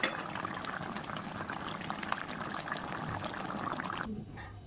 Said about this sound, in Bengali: জল ফুটে গেছে, এখন আমি মাছ আর টমেটোটা ছেড়ে দিয়েছি